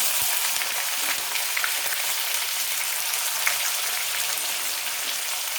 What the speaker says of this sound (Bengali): ফুলকপিগুলো আমি আস্তে আস্তে কড়াইয়ের মধ্যে দিয়ে দিচ্ছি